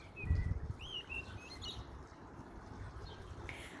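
Pet myna bird gives several short chirps and whistles, moderately close and fairly faint, over a constant low background rumble, with no voices.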